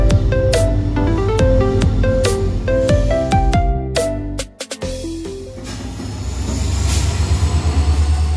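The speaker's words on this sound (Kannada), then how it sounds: "ಫೈನಲಿ 5 hours ವೆಯ್ಟ್ ಮಾಡಿ ಟ್ರೈನ್ ಬಂತು." A train pulls into a station with loud, sustained rumbling and screeching metallic wheel squeals. A sharp clatter is followed by steady rolling noise as it slows, with no voices.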